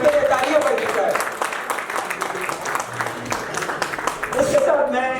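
Audience applause fills the hall at a Gilgit Baltistan cultural day celebration in New York, a steady wash of clapping running throughout, with a voice speaking over it at the start and end.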